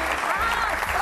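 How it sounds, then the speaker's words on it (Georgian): A quick burst of applause from a studio audience on a Georgian word-guessing game show, steady and full for about a second. "ეს იყო ტაში."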